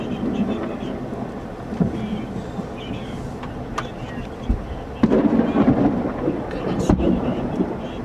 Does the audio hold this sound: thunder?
yes